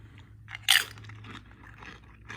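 A single sharp crunch of someone biting into a crisp chip, followed by soft chewing over a low steady hum.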